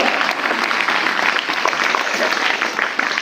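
Loud, dense applause from the audience at a school teachers' and staff felicitation ceremony, continuous and close throughout.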